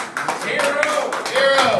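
An audience applauds a music host at a live evening venue, a brief steady patter of clapping running under someone speaking loudly over it.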